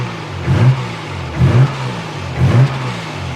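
Nissan 300ZX fitted with an RB26 engine and a new exhaust revs in three short, loud blips about a second apart, each dropping back to a steady idle between them.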